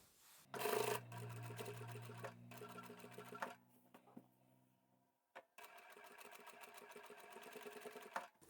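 A sewing machine stitching fabric for a small keychain card holder wallet, running in fast rhythmic bursts with a brief pause and mechanical clicks, close and fairly quiet, with no talking.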